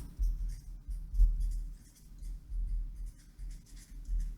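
A pen writing English words on paper, close and soft, with short scratchy strokes in an irregular rhythm and brief pauses between them.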